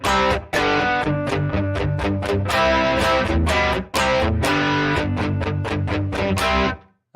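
Heavily distorted electric guitar playing sustained, saturated chords in a rhythmic pattern, loud and close, with two brief stops before the ringing resumes and cuts off at the end.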